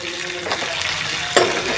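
Cabbage curry with onions being stirred in a frying pan in a canteen-style home kitchen, a steady soft sizzle with a brief louder scrape of the spoon near the end, no talking.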